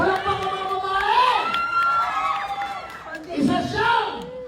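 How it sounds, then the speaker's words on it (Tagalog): Birthday party crowd for Manny Pacquiao cheering and shouting loudly, with children's shrieks and whoops swelling twice amid continuous voices. "Ay, pumalakpak muna ang mga lalaki! Pumalakpak ang mga babae!"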